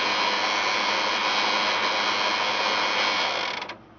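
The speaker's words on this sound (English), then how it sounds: "That nut there puts the winch all in position to operate it remotely." A winch hauling a cable up a ramp gives off a steady, loud mechanical whir that holds evenly, then winds down and stops just before the end.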